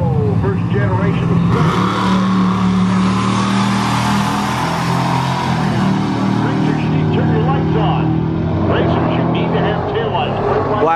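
A Dodge Hellcat races a Ford Expedition, engines roaring in a sustained loud drone with rising revs and pitch shifts, while people talk excitedly throughout.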